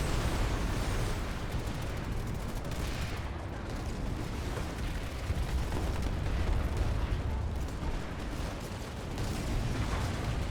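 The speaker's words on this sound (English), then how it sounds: "Some guy with a carbine takes pot shots at me" Carbine gunfire in a first-person shooter game, shown as a dense, continuous stream of cracking shots and booming blasts with mechanical clatter, fairly quiet and with no speech.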